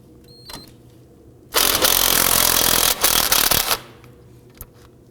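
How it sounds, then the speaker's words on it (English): An impact gun loosens a tie rod nut on a 2005-2009 Subaru Legacy, a loud, close rattling burst lasting about two seconds with a brief dip midway, then quiet. "I'm going to go ahead and use my impact gun"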